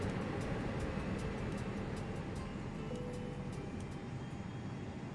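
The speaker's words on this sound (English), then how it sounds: "The APU's just come on." Airbus auxiliary power unit in a flight simulator game running as a steady, dense broadband whine and rumble, continuous and fairly loud throughout with no voices.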